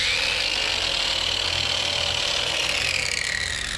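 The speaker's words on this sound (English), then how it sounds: "eventually I'm going to want to use power tools with him" Power tool used for trimming a draft horse's hooves, a steady, loud buzzing whine that runs without a break for several seconds, close by and heard alone.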